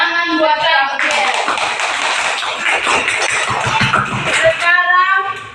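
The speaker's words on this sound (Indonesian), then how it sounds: "Tepuk tangan buat Gabriel." A classroom of students applauding a classmate named Gabriel, a burst of close, dense clapping lasting several seconds, with a teacher's voice speaking before and after it.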